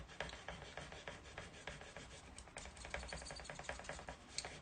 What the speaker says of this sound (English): I think I'm going to rub this down somewhere here